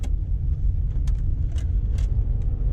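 A Toyota Celsior (Lexus LS400) with a replaced ECU kicks down a gear and its engine revs up, a steady low rumble heard from inside the car with no one talking.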